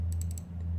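Quick keystrokes on a computer keyboard while coding, four rapid evenly spaced clicks and then one softer tap, set against a steady low electrical hum.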